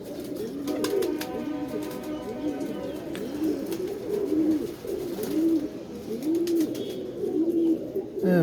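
Pigeons coo repeatedly in a loft, a chorus of soft rolling low coos close by, with a person's voice faintly in the background.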